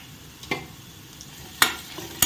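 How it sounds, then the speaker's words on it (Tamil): Green chilli paste sautéing on a medium flame with onions for a mushroom masala makes a soft, steady sizzle, punctuated by several sharp scrapes and knocks of a spatula stirring in the pan. "இதுவுமே நல்லா பச்சை வாசனை போகிற வரைக்கும் மீடியம் ஃப்ளேம்லேயே வச்சு நல்லா வதக்கிக்கலாம்."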